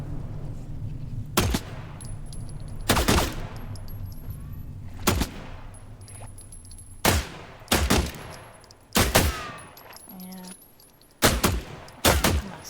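Gunfire in the video game The Last Caretaker: loud single shots and short bursts spaced a second or two apart, with a low steady hum and faint electronic tones between them.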